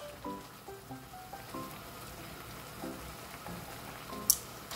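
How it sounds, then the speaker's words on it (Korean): Marinated giant squid stir-frying in a pan, heard as a soft, steady sizzle with faint stirring taps and one sharp clink near the end, no talking. "그래서 지금 볶고 있습니다."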